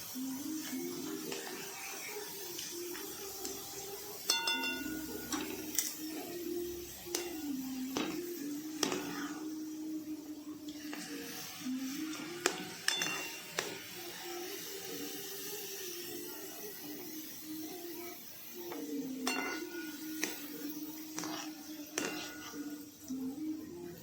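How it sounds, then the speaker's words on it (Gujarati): Potato chevdo being stirred with a spoon as it fries in a pan of oil, a steady bubbling hiss underneath and repeated light scraping clicks from the spoon throughout. "તેને આ રીતે આપણે હલાવતા રહેવાનું છે સતત, જેથી કરીને ઉપર નીચે થઈ ક્રિસ્પી થઈ જાય થોડી"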